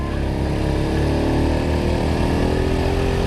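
A motorcycle engine strains up a steep hill toward Puncak Botorono in Temanggung, a loud, steady, labouring drone held close throughout.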